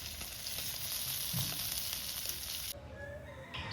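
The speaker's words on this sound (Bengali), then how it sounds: "আমার এই মাছটি সুন্দরভাবে ভাজা হয়ে গেছে" Pomfret fish frying in oil for a masala fry, a loud, close, dense sizzle that suddenly thins out near the end, leaving quieter bubbling.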